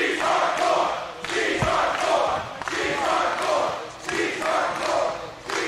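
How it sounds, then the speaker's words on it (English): Wrestling fans at an IWA Mid-South King of the Deathmatches show chant in loud rhythmic waves, a dense arena crowd repeating a phrase in pulsing surges with a thud near the start. "the fans break out into a That Was Awesome chant"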